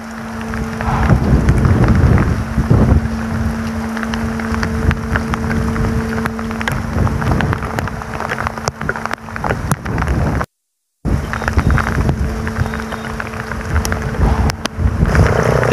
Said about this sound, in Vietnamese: nhà bên kia trú mưa các bạn nhá, mưa to quá. Úi gió ghê thật.